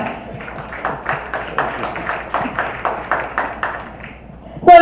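A stage-show audience at the Vadhandhi Season 2 event claps in steady unison beats to welcome guests back on stage, the rhythmic claps evenly spaced before a sudden loud burst at the very end.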